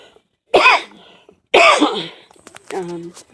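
Two harsh, loud coughs about a second apart, followed by a brief throat-clearing murmur, close to the listener.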